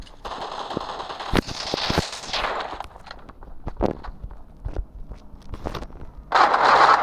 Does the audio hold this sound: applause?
no